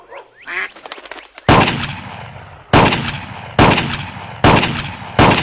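Ducks quack near the start, then four loud, evenly spaced shotgun blasts ring out with fading tails in the Clay Hunt VR duck-shooting game.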